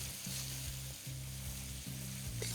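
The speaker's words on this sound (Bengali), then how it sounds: "আর পেঁয়াজটাকে এখানে কিন্তু আপনাদের একটু লাল লাল করেই ভেজে নিতে হবে।" Thinly sliced onions (three medium) fry on a high flame, giving a steady loud sizzle with no talk over it.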